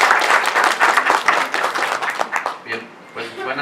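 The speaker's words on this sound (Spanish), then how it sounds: "Un fuerte aplauso para él." A seated audience gives dense, loud applause for a speaker at a public education forum, holding steady before it thins into scattered claps at the end.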